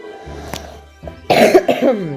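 A few sharp coughs close by, following a quieter stretch of low background hum.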